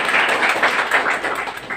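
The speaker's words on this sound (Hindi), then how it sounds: "भाई तालियां बजाओ" Audience at a Brahma Kumaris exam-support event clapping together, quick rhythmic hand claps in a steady, fairly close patter.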